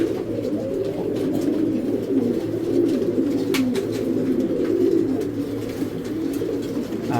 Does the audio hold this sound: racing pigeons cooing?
yes